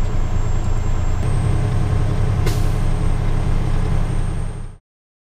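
A Class A truck's air brake governor cuts out with a quick, sharp pneumatic hiss, briefly rising over the loud, steady rumble of the nearby idling diesel engine before the sound cuts off.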